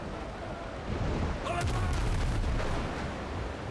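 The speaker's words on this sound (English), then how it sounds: "Warning shots. They're all warning shots." Cannon warning shots fired from a ship in the Windrose pirate game, a burst of heavy booming reports rolling together over about two seconds under steady background noise, loud and close.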